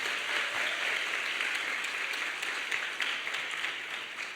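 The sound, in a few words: applause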